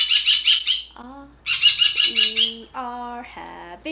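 A pet parrot lets out rapid bursts of shrill, high chirps, four or five quick pulses at a time, in two clusters. A person talks in the gaps between them.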